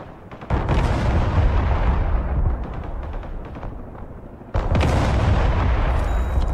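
Artillery in the real-time strategy game Broken Arrow fires in heavy, booming volleys. Dense rumbling blasts and explosions fill the scene, easing off midway before another loud barrage hits close.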